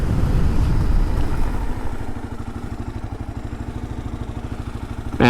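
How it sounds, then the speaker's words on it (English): A 2022 Kawasaki KLR650 ABS motorcycle engine winds down as the bike brakes hard from 70 km/h, the rumble turning into a rapid pulsing ABS stutter before a brief rise at the end. "70 kilometers an hour and brake."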